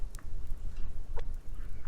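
A live chicken in the survival game Subsistence gives a few soft clucks over a steady low rumble of game ambience, with no talking.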